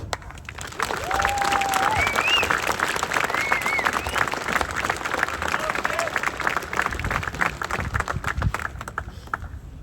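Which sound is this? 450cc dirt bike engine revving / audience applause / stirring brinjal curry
audience applause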